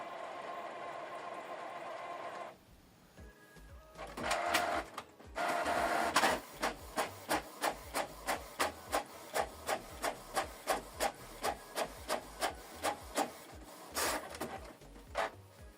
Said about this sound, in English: Then you go back, then select print. Processing, please wait momentarily.